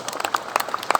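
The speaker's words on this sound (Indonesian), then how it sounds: "Ya, tepuk tangan." Brief burst of audience applause at a tourism and culture discussion forum, a short patter of many hands clapping, moderately near.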